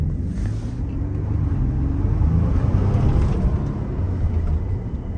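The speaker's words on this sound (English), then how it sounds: "Yeah, but that turbo, it definitely sounds amazing" A 2022 Ford Bronco Big Bend Sasquatch with an EcoBoost turbo engine drives along, its steady loud rumbling engine and road noise continuous throughout without speech.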